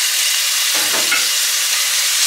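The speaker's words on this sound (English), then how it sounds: "I have a couple tablespoons of olive oil in here. I'm going to put my garlic in." Garlic sizzling in a couple tablespoons of hot olive oil in a pan, a steady loud frying hiss with a brief thump as the garlic goes in, close and continuous.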